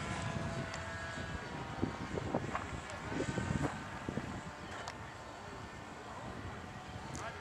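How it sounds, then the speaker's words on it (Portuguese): Wind gusting across an airstrip in Santa Cruz, Rio, a steady broadband rush with buffeting on the microphone and a faint aircraft engine drone underneath, with brief voices now and then. "o vento tá aqui, vai, ó."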